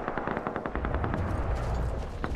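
Rapid bursts of automatic gunfire crackle in a firefight in the video game Metro: Exodus, loud and close, with overlapping shots and booming low rumble under the rattling volleys.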